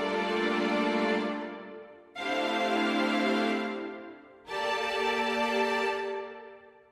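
Three sustained string-like notes, each starting promptly and slowly fading, with short gaps between them.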